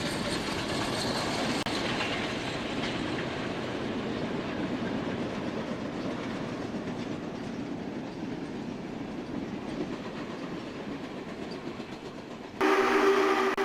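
SP&S 901 Challenger steam locomotive on a test run, a steady loud rumble and rolling rail noise that holds for most of the span, ending in a sudden brighter, louder burst.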